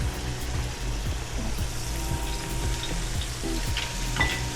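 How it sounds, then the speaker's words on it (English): Eggplant frying in a pan for ratatouille, a steady close sizzle with soft bubbling and occasional light clicks of a utensil, continuous and fairly loud with no voices. "Eggplant, that's cooking nicely."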